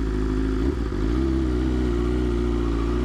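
Continuous loud engine drone of a 215 hp BMW S1000RR sportbike, with a brief dip and blip as the quick shifter cuts in before the engine settles back to a steady rev.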